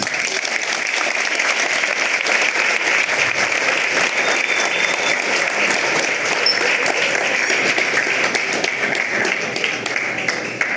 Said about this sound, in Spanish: médico veterinario Alejandro Guedes, les pido que brinden un fuerte aplauso.